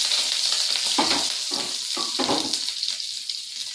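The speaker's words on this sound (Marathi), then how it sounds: "लसूण, कढीपत्ता जास्त उडते बाबा" Garlic and curry leaves spluttering in hot oil, a steady close sizzle with several sharp crackling bursts as the pieces pop and stir in the pan.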